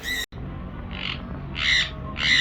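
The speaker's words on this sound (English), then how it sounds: "really pretty macaw just eating his fruit" Macaw on a cruise ship squawking while eating fruit: three harsh, raspy calls, growing louder and closer, over a low background hum, after a brief cut at the start.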